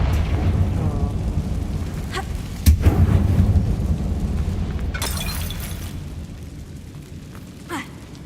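Confringo spell explosion in the Hogwarts Legacy video game, a sharp burst followed by a rumbling, crumbling boom that fades over several seconds, with a brief second crack near the end.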